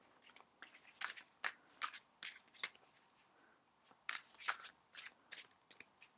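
Tarot cards are shuffled and drawn in a quiet room, giving a steady series of crisp riffling bursts and soft card slaps, close and fairly faint.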